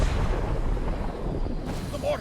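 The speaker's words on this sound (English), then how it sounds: "The mortars have closed off the pass." Mortar fire booms across a sulfur-rich pass in Star Trek Online, a deep rumbling blast rolling on and fading, with voices murmuring beneath it.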